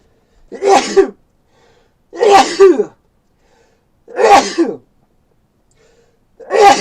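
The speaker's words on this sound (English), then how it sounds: "And I need to sneeze again." Four loud sneezes, evenly spaced about two seconds apart, each a sharp burst with short silences between and no talking.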